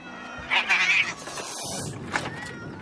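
Harbour cats meow and caterwaul at a returning fisherman, a loud drawn-out wail followed by a shorter cry, close by over steady outdoor ambience.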